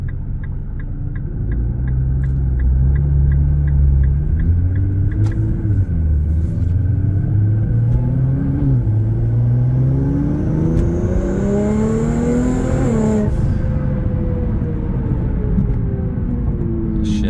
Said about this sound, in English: Nice and smooth, blow-off valves sound awesome.